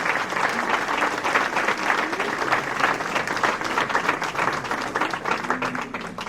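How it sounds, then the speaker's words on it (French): Audience at a New Year's greetings ceremony in Saint-Martin-de-Seignanx applauding the bouquet recipients, a steady sustained round of clapping from a sizable indoor crowd lasting several seconds, fairly loud and even throughout. "On peut les applaudir."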